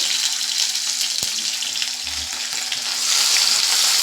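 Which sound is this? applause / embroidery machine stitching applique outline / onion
onion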